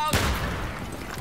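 A grenade blast and gunfire in Battlefield 3 on the Grand Bazaar map: one sharp boom opens the clip and fades into a rumbling, crackling tail of shots, close and loud, with voices talking over it.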